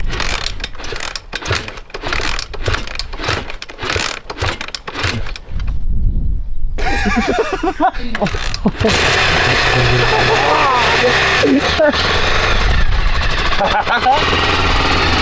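A Honda XR600R motorcycle single is kick-started. It breaks into loud, rough idling with rhythmic chugging pulses, and voices talk over it.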